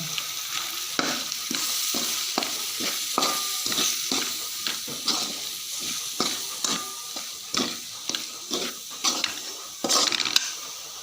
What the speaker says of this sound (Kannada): ಅದಕ್ಕೆ ಮೊಟ್ಟೆ ಮಸಾಲದ ಪ್ಯಾಕೆಟ್ ಎರಡು ಪ್ಯಾಕೆಟ್ ಹಾಕಿ ಚೂರು ಫ್ರೈ ಮಾಡಿ